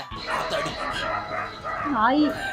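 A dog barks and whimpers in short yips and a rising whine, mixed in with people talking.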